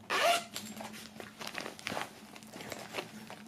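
A zipper on a black toiletry bag is pulled open in one quick, loud rasp, followed by soft crinkling and handling rustles, close and without speech.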